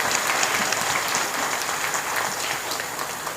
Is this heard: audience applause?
yes